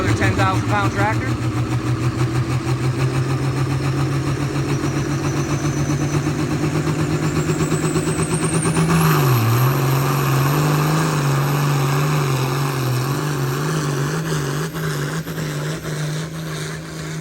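A 10,000-pound pulling tractor at a sled pull roars steadily under heavy load, rising in pitch with a whining climb before dipping briefly and holding a loud, rough drone.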